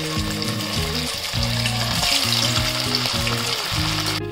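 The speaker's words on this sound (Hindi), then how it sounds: "टिक्कियां बनकर तैयार हो गई है। अब इन्हें हम फ्राई कर लेंगे" Sabudana tikkis frying in hot oil in a kadhai, a loud continuous bubbling sizzle heard up close, steady throughout with no talk and a tonal hum running underneath.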